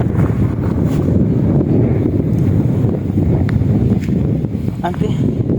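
Strong outdoor wind roars steadily across the microphone, a loud continuous buffeting rumble, with a voice talking faintly beneath it.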